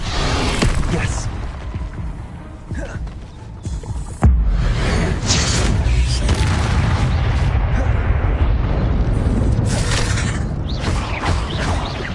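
Incendio fire spell in the Hogwarts Legacy video game, a sudden loud whooshing blast that flares up and rumbles on under crackling effects and speech.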